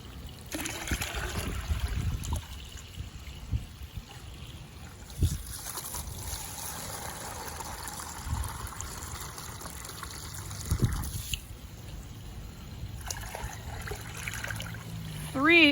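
Water is dumped from a medium container into a bigger one in repeated pours, each a close gushing splash followed by trickling, with a few short bursts spread across the stretch.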